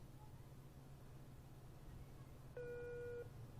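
Telephone busy tone, a steady electronic beep near the end of the clip that cuts in for under a second over a low background hum, with no one picking up.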